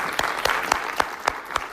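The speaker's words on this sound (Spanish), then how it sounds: "Vamos a dar un aplauso de gloria a Dios" Church congregation clapping to give glory to God during a Spanish-language worship service on praise and spiritual warfare, a steady patter of many hands with sharper individual claps surging through, close and fairly loud.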